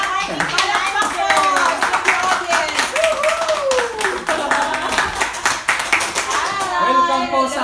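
An audience claps loudly and continuously while staff are welcomed at a cargo-shipping company event, with excited voices, cheers and a voice mixed in over the clapping.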